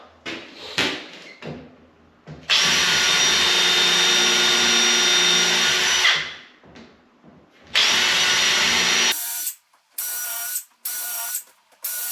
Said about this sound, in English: then we're ready to drill a hole on every single packer position that we've got